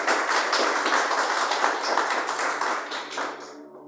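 A church congregation bursts into sustained applause for Jesus, a dense, steady wash of many hands clapping that fills the space for several seconds before gradually thinning and fading out at the end.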